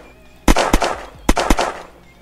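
Two quick bursts of video game gunfire in Unturned battle royale, each a pair of sharp shots followed by a crackling tail, sounding punchy and close against a quiet background.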